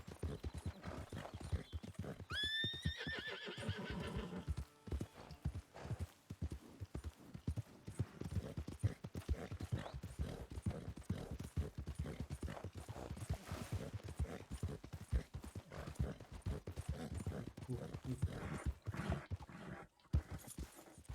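A horse in Red Dead Redemption 2 gives a sharp whinny near the start, then its hooves clop in a steady walking rhythm close by for the rest of the stretch, with no talk over it.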